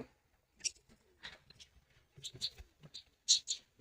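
Fancy pigeons in a loft, many sitting on eggs: soft scattered coos and rustling calls, quiet and intermittent, in short bursts close by.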